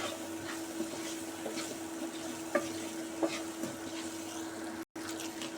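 Potato pieces with salt and turmeric frying in oil as they are stirred: a steady soft sizzle with occasional light spatula scrapes and taps, fairly quiet and close, with a brief dropout near the end.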